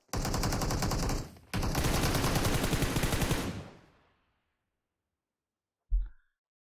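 Sustained bursts of automatic gunfire from a video game, loud and continuous for about four seconds with a short break, then fading out, followed by a single sharp impact near the end.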